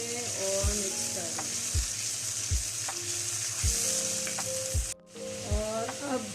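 Ginger and garlic frying in a pan with a loud, steady sizzle, while a spoon knocks and scrapes against the pan in repeated strokes, with a brief drop out just before the end.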